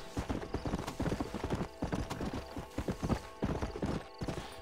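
Horse hooves clip-clopping in Red Dead Redemption 2, a brisk continuous rhythm of clear hoofbeats with a brief whinny mixed in.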